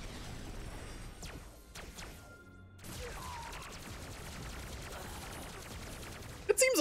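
A barrage of bullets in Kingdom Hearts Re:Mind comes as scattered sharp impacts and whooshes, fairly faint beneath the game's sound, with a brief lull midway before the volley resumes.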